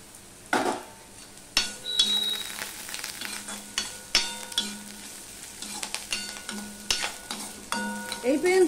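Curry leaves frying with lightly browned onions in a pan, a crackling sizzle broken by sharp spatula scrapes and pan clinks, close and with no voices.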